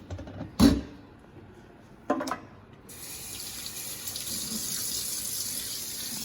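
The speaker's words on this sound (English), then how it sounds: "gonna rinse all the dish soap off" Tap water runs steadily over a grill grate to rinse off dish soap, a continuous close splashing hiss that starts after a couple of brief knocks and carries on alone to the end.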